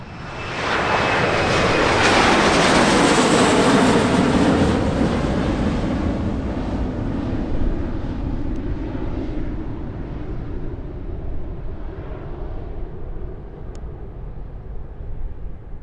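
A Southwest airliner takes off from runway 07 at an airport in Jamaica. Its loud jet roar swells over the first few seconds, then slowly fades as it climbs away, with no talking.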